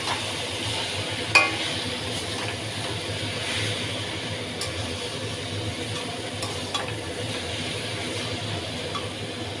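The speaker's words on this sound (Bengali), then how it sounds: "এটা আমি ভালোভাবে নাড়াচাড়া দিয়ে দেবো যাতে সব জায়গায় মিশে যায়" Cabbage curry with hilsa fish head being stirred in a pan, a steady low sizzle with soft scraping strokes and an occasional faint clink, close and alone.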